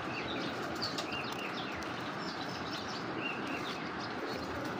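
A racing pigeon gives soft, repeated coos over a dense, steady wash of background noise, the calls faint and partly buried.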